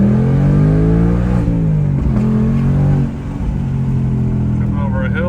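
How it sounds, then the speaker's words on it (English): Ford Mustang Dark Horse V8 revving hard under acceleration with windows down, loud rising engine harmonics that climb, dip at a shift and fall away, heard close from inside the car. "Just gonna give it gas."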